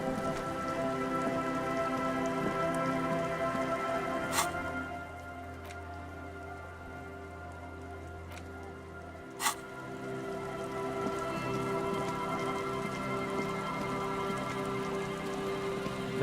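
Steady rain pattering down in the Disco Elysium video game, a continuous even hiss on hard surfaces, with a couple of brief sharp clicks and a low hum that fades partway through.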